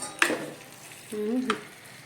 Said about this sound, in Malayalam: ഇനി നമുക്ക് ചിക്കൻ്റെ ഈ മസാലക്കകത്തിട്ട് നന്നായിട്ട് വഴറ്റിയെടുക്കണം